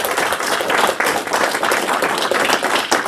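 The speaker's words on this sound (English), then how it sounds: "one final round of applause for the 7 people that stood up here" Loud, dense applause from a convention audience for seven presenters at a game design feedback event, steady overlapping claps with scattered sharper individual hits throughout.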